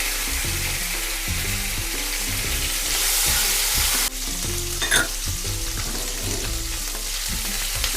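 Sliced onions fry in a pan with ginger garlic paste, a loud, continuous close sizzle broken by the scrape of a spatula stirring through them.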